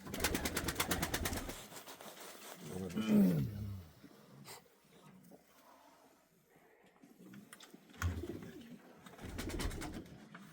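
Pigeons of a flock kept for about forty years coo in low, throaty bursts at close range, with a louder flurry at the start and again near the end, quieter stretches between.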